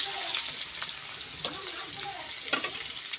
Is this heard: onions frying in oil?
yes